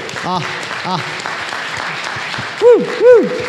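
An audience at a talk about running a half marathon claps steadily in a continuous wash of applause, with a voice and some whooping tones rising above it.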